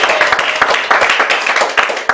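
A Pentecostal church congregation claps loudly and close, in quick, fairly rhythmic bursts that continue without pause.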